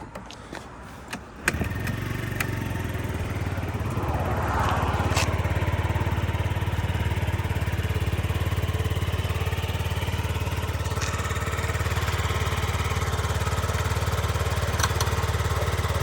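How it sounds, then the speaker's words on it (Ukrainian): After a short clatter at the start, a Yamaha Gear four-stroke fuel-injected scooter engine settles into a steady, low, even idle, close and continuous with no one speaking. "Ідеально двигунчик працює"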